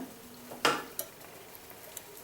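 Urad dal kali dropped into an oiled pan lands with one close, sharp clatter and a brief scrape, followed by a lighter metallic tap and faint pan noise.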